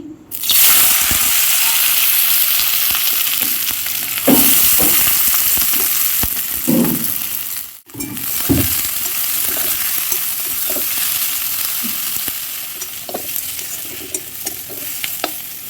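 Chopped onions frying in hot mustard oil, a loud, close, dense sizzle running throughout with several scraping stirs and a brief break midway before the hiss resumes, no talking.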